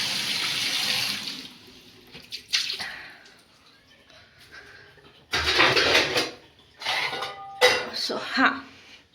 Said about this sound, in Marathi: पण त्याच्या आधी ना माझं तिथे कळशी भरत आहे, तर ते काढून घेते.